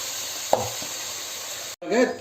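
Chopped tomatoes for a wedding-style chicken biryani sauté in a pan, a steady low sizzle with a couple of brief knocks of a spoon and a short clatter near the end; no talk.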